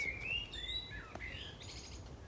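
Small birds chirp and tweet in quick, high, sliding calls across an allotment plot. Several short phrases sound close and clear over a quiet outdoor background.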